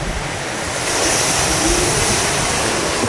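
Sea waves wash in at a rocky shore near a pier, a continuous loud roar of surf that swells slightly, mixed with wind buffeting the microphone.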